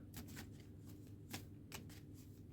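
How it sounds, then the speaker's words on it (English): A deck of playing cards being shuffled by hand, a quick run of soft riffling flutters and snaps, close and quiet, with no talking. "let's shuffle these up a bit more"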